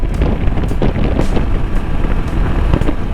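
Heavy, continuous wind roar buffets a rider's helmet on a Tekken 250 motorcycle at highway speed, with a visor vent open, steady and loud throughout with rumbling low gusts.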